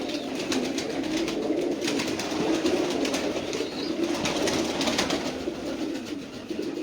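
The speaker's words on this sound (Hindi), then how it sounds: "ये मेरे लाल कबूतर हैं माशाल्लाह।" Red pigeons coo together in a dense, continuous chorus, a steady rumbling murmur of many birds held at an even loudness.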